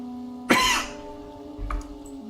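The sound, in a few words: coughing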